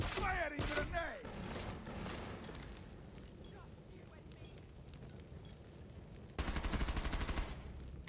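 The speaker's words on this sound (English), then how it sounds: "Firing grenade." Gunfire bursts and a grenade launch in the tactical shooter Rainbow Six Siege, with sharp reports at the start and a dense, loud burst near the end over steady game ambience, under occasional talk.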